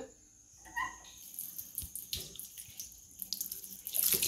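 Water splashes and runs over waterproof, reusable rain boot covers made of easy-to-clean elastic fabric, a steady close pour with uneven spattering throughout.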